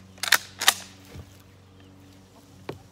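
Two loud, sharp shotgun blasts a fraction of a second apart from an Akkar 612 home defense shotgun, each with a brief decaying tail, followed by quieter mechanical knocks.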